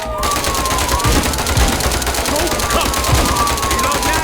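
Rapid automatic gunfire rattles loud and continuous from a shooting sequence in Gangstar New York, with game effects layered beneath.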